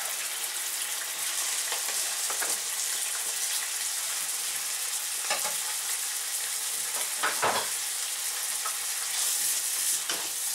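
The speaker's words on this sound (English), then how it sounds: "this we will give a good fry so they get a uh, fry and start taking color" Garlic and onion sizzle steadily in a hot pan for a Chinese green bean and ground pork dish, a continuous crackling fry with occasional stirring scrapes and sharper pops, no voices.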